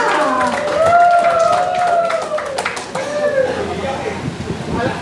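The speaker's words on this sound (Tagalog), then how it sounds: "palakpakan niyo po ng malakas, may kasamang hiyawan" A training-day audience for a police program bursts into loud, continuous clapping mixed with shrill cheering and whooping voices, filling the room close by for the whole stretch.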